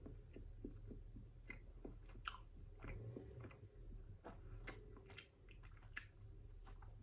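Close, quiet chewing of milk chocolate, soft wet crunches and mouth sounds repeating irregularly over a low background hum, with no talk.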